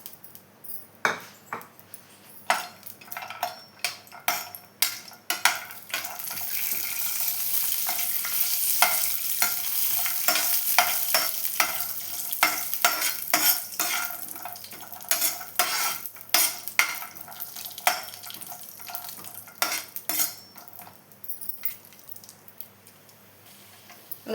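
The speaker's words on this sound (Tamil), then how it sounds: "நான் கொஞ்சமாக முந்திரி எடுத்து வறுத்துக்கிறேன்." Cashews fry in hot ghee in a pan for rava kesari, with a steady close sizzle. A spoon stirs them in frequent sharp clinks and scrapes against the metal.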